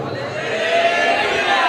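A large church congregation at a Ludhiana mission gathering raises a loud, sustained collective shout of hallelujah, a broad wall of many voices calling together at close range.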